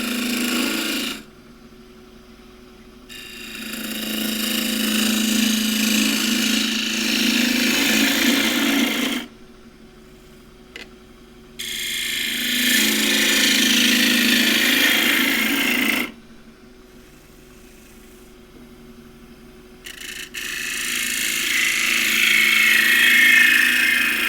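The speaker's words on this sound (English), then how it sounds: "There's the 3/8 bowl gouge." Bowl gouge cutting a knotty, split Himalayan cedar bowl spinning on a lathe, a loud rasping, scraping whir in three long passes separated by brief pauses with only the motor's hum.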